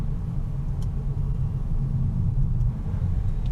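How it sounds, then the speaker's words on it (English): A 2024 Volkswagen T-Roc R with a 7-speed gearbox, heard from inside the cabin as it changes down through the gears, giving a deep steady engine rumble and road drone with no talking. "The gear changes from that 7-speed are pretty much instant, which is lovely. Let's go down a few gears."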